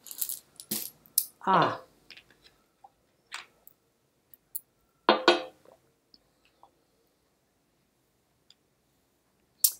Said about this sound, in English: I'm going to take the runes and cast them to see what they have to say.